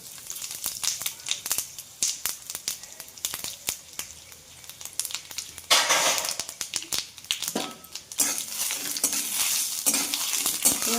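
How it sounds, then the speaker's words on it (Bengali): A tempering of cumin seeds, bay leaf and two dried red chillies frying in oil in a home kitchen crackles and sizzles close by, with sharp pops and spoon scrapes, then bursts into louder spluttering hisses partway through. "এবার ফোড়ন দিচ্ছি। ফোড়ন দিয়েই আমি রান্নাটা চাপাবো।"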